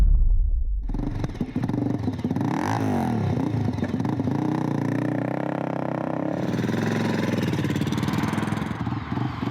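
A Crosby TT400 motorcycle engine revs and pulls away from a studio, a loud, close rumble that rises in pitch as it accelerates and then holds a steady drone.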